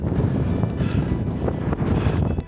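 Strong wind buffets the microphone at a hilltop viewpoint above Qaqortoq, Greenland, a loud, continuous rumbling roar with gusty swells and no voices.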